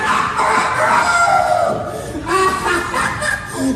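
A person imitates a rooster's crow, a warbling, rising and falling call that comes in two bursts.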